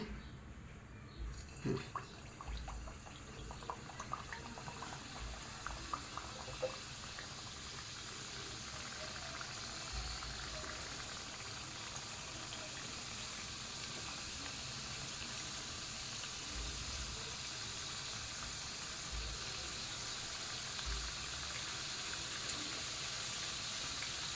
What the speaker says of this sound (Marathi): हे बघा आपलं तेल तापलेलं आहे आता आपण तेलामध्ये डीप फ्राय करून घेऊया